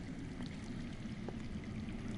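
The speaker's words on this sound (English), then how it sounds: "I hear water. From underground." Running water underground in a Game of Thrones video game, a soft continuous trickling stream heard faintly and evenly, with no speech over it.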